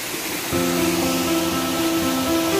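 A waterfall at Kayu Jauh in Kabupaten Solok, a steady broadband roar with no break, loud and close, and a faint hum or tone entering partway through.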